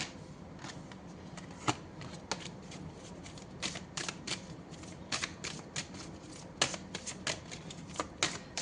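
Tarot cards being shuffled by hand, a run of crisp riffling flicks and soft slaps at an uneven rhythm, close and fairly quiet, with no talking.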